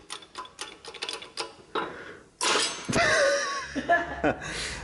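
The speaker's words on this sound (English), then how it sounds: "Now we have hydraulic press, which we are going to crush with hydraulic press" A hydraulic press crushes a second hydraulic press, giving mechanical grinding and creaking, then a loud sustained crunch and groan of straining metal with sharp cracks, while people talk and react in the background.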